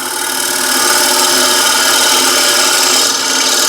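A 3/4 inch square scraper cuts on a wood lathe, truing the rim of a turned container: a loud, continuous, even scraping rasp over the spinning wood, with no voices.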